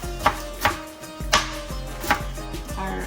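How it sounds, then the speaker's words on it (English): A knife chopping fresh herb greens on a cutting board, four or five distinct close thuds at an uneven, unhurried pace with quiet pauses between strokes. "So I'm just going to do that, and then we'll chop and drop into our bowl"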